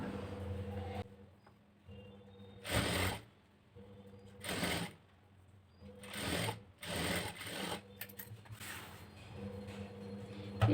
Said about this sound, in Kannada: ಈ ರೀತಿ ಸ್ಟಿಚಿಂಗ್ ಆದಮೇಲೆ ಮೇಲೊಂದು ಲೈನಿಂಗ್ ಕ್ಲಾತ್ ಕಡೆ ಒಂದು ಸ್ಟಿಚ್ ಹಾಕೋಬೇಕು